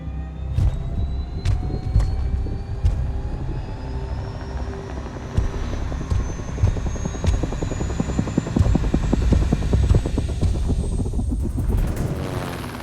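A helicopter used for cattle mustering in the Australian outback thrums loudly and steadily with rapid rotor chopping, its pitch slowly rising as it passes close overhead.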